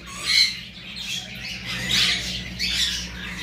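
Pet birds in a sale collection, including Rubino red and double factor birds, squawk in loud repeated bursts with chirps between them, close by and busy. No one talks.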